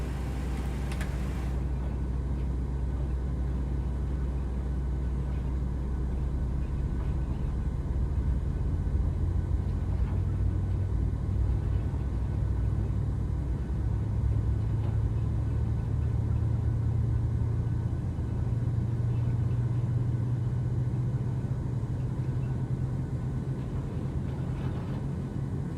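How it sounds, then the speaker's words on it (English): A PMDG 737-700 engine number 1 spools up in a flight simulator, a steady, loud low rumble and whine that holds evenly throughout with no talking. "sounds like we have a good start of engine number 1"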